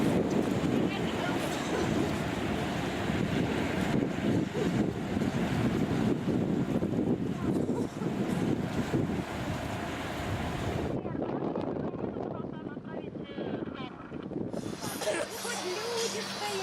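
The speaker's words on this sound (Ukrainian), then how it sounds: "Прогулочки на катере." A motorboat ride out on open water, with steady wind buffeting the microphone and the rush of waves and engine beneath, loud and continuous throughout.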